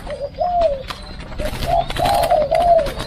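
Dove chicks in a breeding aviary coo repeatedly in soft, rolling phrases, close and fairly clear, with a few separate calls running back to back.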